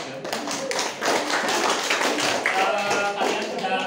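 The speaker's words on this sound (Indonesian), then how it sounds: "tepuk tangan lagi" A primary school class applauds after a group drawing lesson, a dense patter of small hands clapping at steady loudness throughout, with a teacher's voice faintly underneath.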